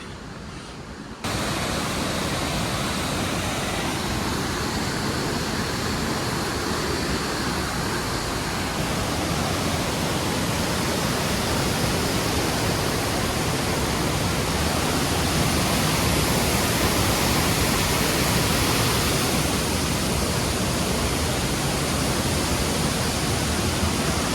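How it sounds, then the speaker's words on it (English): Waterfall with water sluicing through caverns, a loud unbroken roar of rushing water that starts abruptly and holds steady for the rest of the stretch. "So all this water comes sluicing through"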